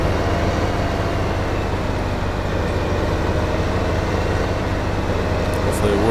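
A truck engine in Farming Simulator 2015, stuck on a hay bale, drones in a steady, unbroken rumble that holds an even level throughout, with no voices over it.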